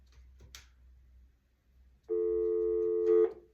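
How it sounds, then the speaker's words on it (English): A telephone line after a call cuts off: quiet line hiss with a faint click, then a steady electronic phone tone sounds alone for about a second before stopping. "I don't know if the phone went dead or what, it just cut off."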